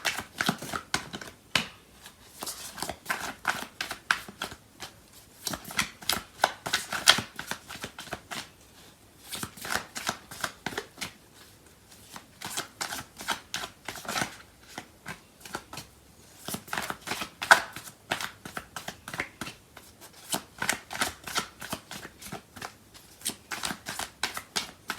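Tarot cards are shuffled steadily, a long run of crisp riffling and slapping bursts repeating close by with short pauses between, with no talking.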